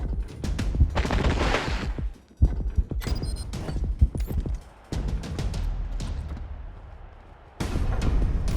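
Gunfire from the video game Wasteland 3: loud bursts of rapid shots and fusillades in several dense volleys separated by short pauses, with no talking.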